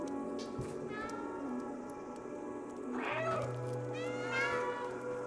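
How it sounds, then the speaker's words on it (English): A cat meows several times in the video game Stray, with rising and falling calls over a steady background of game music and ambience, and no talking. "Press B to meow."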